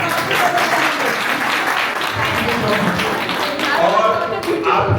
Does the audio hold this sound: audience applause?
yes